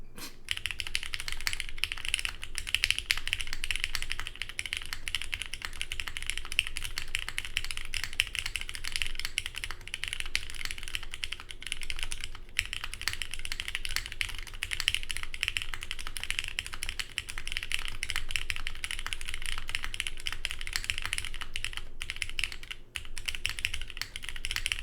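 Continuous fast typing on a plateless Maker Keyboards Velvet TKL mechanical keyboard, a dense stream of close, crisp keystroke clacks with occasional heavier bottom-outs, no voices.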